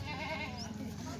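A Kathiawadi goat bleats in a wavering, drawn-out call at a livestock sale, faint and slightly distant over low background noise.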